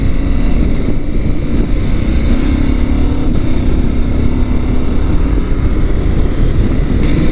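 KTM 790 Adventure motorcycle cruising on a freeway after a lowering-spring install, a loud, steady engine drone blended with heavy wind rush, heard from the rider's position without talk.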